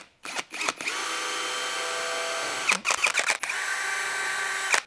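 A power drill pre-drilling holes for stainless steel screws whirs at a steady pitch for over a second, stops, then runs again in short bursts before a longer sustained spin, close and clear.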